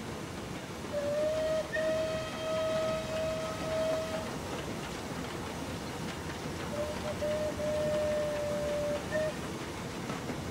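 Simulated steam locomotive whistle of the Merchant Navy Clan Line in Train Simulator 2020, two long clear tonal blasts over a steady hiss and rumble of the engine.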